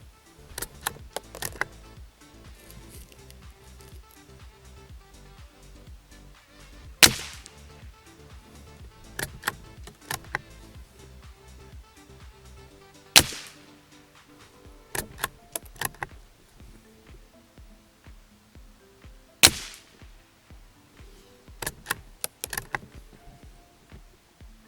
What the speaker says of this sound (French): C'est impressionnant la différence de bruit d'une munition à l'autre.